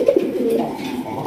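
Raj Golla pigeons coo close by, a soft, throaty burbling that rolls on continuously for a moment with little else around.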